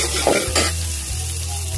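Mee goreng frying in a pan sizzles loudly and close while a utensil stirs and scrapes through the noodles in a couple of quick strokes, with no talking.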